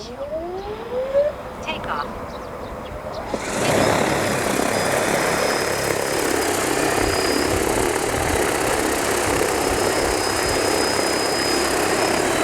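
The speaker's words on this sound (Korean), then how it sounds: "이륙 방식은 똑같이 중앙으로 모아주시면 이륙을 해요." A DJI T20P quad-rotor agricultural spraying drone spools up and lifts off outdoors, its four propellers rising from a brief whine into a loud, steady, close roaring buzz that holds to the end.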